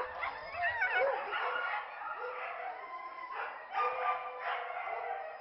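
A team of sled dogs in North Bay howls, yips and barks before a run, a mix of overlapping canine calls at moderate distance with no talk.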